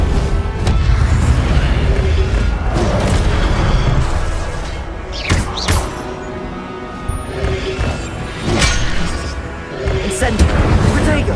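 An Incendio fire spell is cast repeatedly in Hogwarts Legacy, loud booming bursts and crashes of flame mixed with other combat noise while a voice shouts over them.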